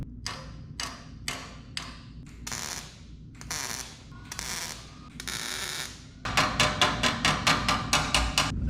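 Tack welding on a body panel of a 1930 Ford Model A gives a series of short, crackling bursts, then a faster run of sharp, regular pulses close by.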